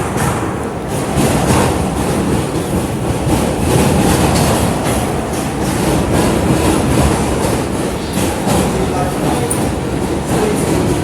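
An R211 F subway train runs through New York toward Coney Island, filling the ride with a loud continuous rumble of wheels on rails and steady clatter from inside the car.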